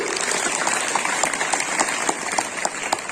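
Sustained applause from an audience of students and guests at a Gandhi Chowk school event, dense steady clapping with a few louder individual claps standing out, continuous throughout.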